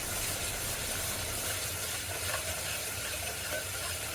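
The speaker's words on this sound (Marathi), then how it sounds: "ह्या मसाल्यानं पण चांगलं तेल सुटलं पाहिजे तो पण भाजायचा मेन म्हणजे हा मसाला चांगलं भाजणं गरजेचं आहे कंटिन्यू परतून घ्यायचं" Masala for a spicy Puneri misal roasts in oil while being continuously stirred, giving a dense, even hiss that holds steady at close range throughout, with no talking.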